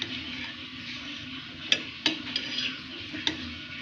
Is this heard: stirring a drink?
yes